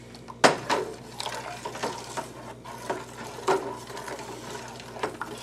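Beer kit mixture being stirred in a pot, with a run of close scraping and clinking knocks from the spoon against the metal, irregular and fairly quiet, with no voices.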